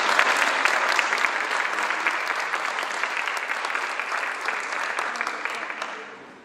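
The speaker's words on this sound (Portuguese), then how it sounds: "Novamente, uma salva de palmas," Sustained, even applause from a large audience, a dense wash of clapping that holds steady for several seconds before tapering off at the end.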